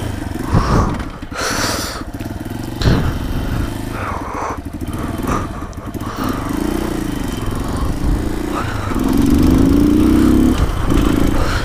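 Supermoto motorcycle ridden with its headlight locked on full beam due to a dead regulator; a steady, close engine drone with wind rush runs throughout, rising in pitch and load toward the end as it accelerates.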